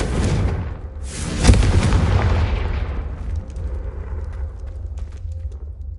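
A Confringo spell explosion in the video game Hogwarts Legacy: a loud, close blast at the start, a second sharp burst about a second and a half in, then a long rumbling tail that fades slowly.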